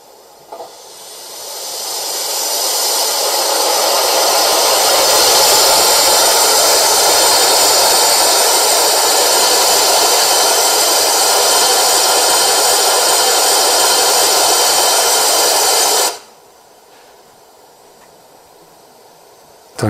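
A 1:32 gauge model of a BR 59 steam locomotive vents cylinder steam in a loud, close, continuous hiss that swells over a couple of seconds, holds for about fifteen seconds, then cuts off abruptly.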